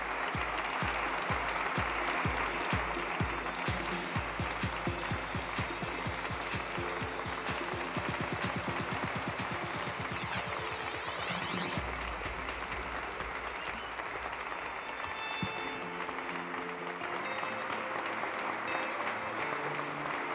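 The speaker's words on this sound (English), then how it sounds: "a huge round of applause" Applause at a graduation ceremony: a crowd claps steadily and densely for about twenty seconds, a loud continuous patter that holds even without letting up, with no voices standing out.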